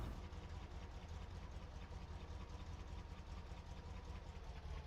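A tractor engine idles steadily in Farming Simulator 19, a low, even rumble with a faint knocking pulse that holds at constant loudness throughout, with no talking.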